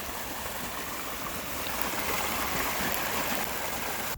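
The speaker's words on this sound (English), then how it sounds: "I cannot get over the velocity and volume of water currently making its way into the pond" Fast, high-volume floodwater rushes steadily into a pond on a flood plain, a continuous close broadband roar of flowing water with no talk over it.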